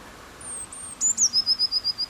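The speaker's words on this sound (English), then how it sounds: "that's the sound of a blue tit" A blue tit sings nearby in snow, a thin high note followed by a quick run of repeated bright, evenly spaced chirps over faint background hiss.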